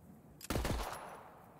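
A gun fired in its alternate shooting mode in Borderlands 3 VR: a short rapid burst of heavy shots lasting under half a second, loud and close, trailing into a fading decay over quiet background.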